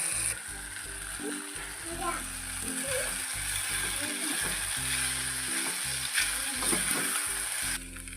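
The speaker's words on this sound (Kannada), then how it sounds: "ಇವಾಗ ನೆನೆಸಿದ ಸಾಬುದಾನಿಯನ್ನು ಹಾಕೊಂಡು ಮಿಕ್ಸ್ ಮಾಡ್ಕೊಳ್ಳೋಣ." Soaked sabudana (sago) stirred in a pan for sabudana upma, giving a steady sizzle with scraping stir strokes under continuous background music.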